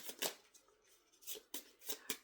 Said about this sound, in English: even like in shuffling the cards